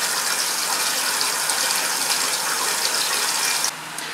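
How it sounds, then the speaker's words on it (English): A vacuum pump pulls water through a clogged filter frit during a copper chromite catalyst filtration, producing a steady loud hiss and gurgle that drops abruptly near the end. "this filtration is really giving my vacuum pump hell"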